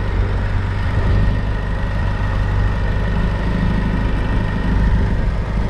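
A steady, low tractor engine idles close by, a continuous rumbling drone with no change in pace throughout.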